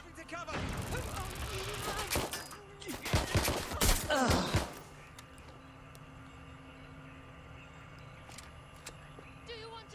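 Bursts of gunfire in a firefight in the Watch Dogs Legion video game, dense volleys rising over the first half and peaking around the middle before fading to a quieter background.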